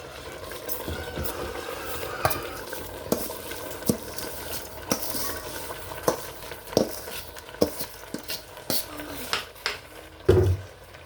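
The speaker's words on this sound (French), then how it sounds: "Maintenant, je vais rajouter mon riz." Rice poured into a pot of chicken seasoned with basil and dried parsley, with repeated clinks and scrapes of a utensil against the pot, a steady cooking hiss underneath and occasional sharper knocks, fairly close.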